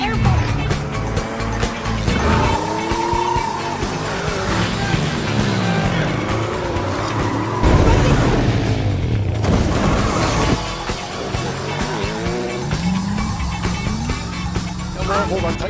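Action-movie car chase with motorcycles in pursuit: roaring engines, skidding tires and crashing, shattering impacts throughout, loud and continuous, with voices over the mayhem.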